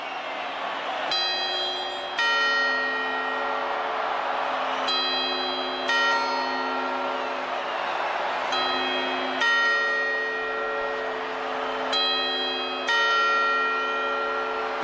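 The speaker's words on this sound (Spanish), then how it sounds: "Y ahora las campanadas." Church bells ring out for the New Year's campanadas, several loud, clear strikes with long ringing overtones spaced about every one to three seconds over a low crowd murmur.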